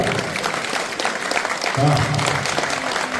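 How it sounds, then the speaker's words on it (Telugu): Devotees clap together for Ayyappa during a maha padi puja, loud rhythmic group clapping close by with voices chanting and calling over it. "ఒక్కసారి మనం కూడా చప్పట్లు కొడుతూ అయ్యప్పకు పూలు తొందాం"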